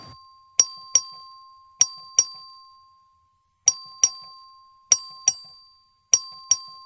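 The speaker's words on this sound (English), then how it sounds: "The clerk ring the bell." A legislative clerk's electronic voting bell chimes in sharp, clear dings, mostly in quick pairs with short pauses between, ringing loud and alone in the chamber.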